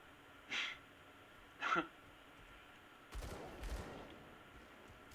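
Pistol gunfire in the action RPG Grim Dawn, two sharp shots followed by a longer rattling volley, at a low overall level with no talking.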